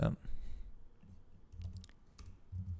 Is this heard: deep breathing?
no